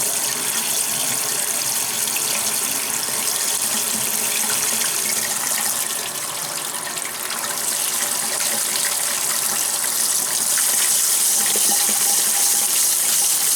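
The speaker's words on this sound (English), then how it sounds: "So I've actually got the water on and using it as a kind of a super flush." Water rushes continuously from a water heater drain valve during a flush, a loud, close, steady gush with splashing, no voices.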